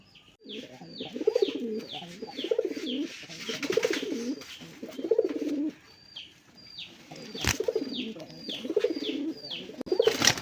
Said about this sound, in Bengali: বন্ধুরা এখানে একজোড়া রাসগোল্লা কবুতর দেখেন